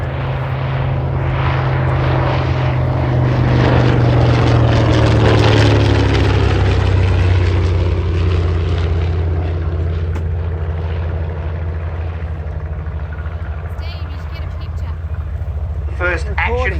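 A Grumman Avenger's roughly 2,000-horsepower Wright Cyclone radial engine drones loud and steady in flight, a continuous deep propeller roar that holds throughout.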